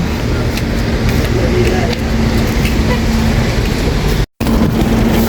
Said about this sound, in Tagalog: Bumuhos na ang ulan.